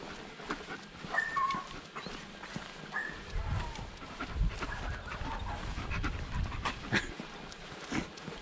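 A dog panting and snuffling close up during an outdoor walk, its nose pressed near a GoPro Hero 7 camera, with rustling and shuffling steps over a steady background.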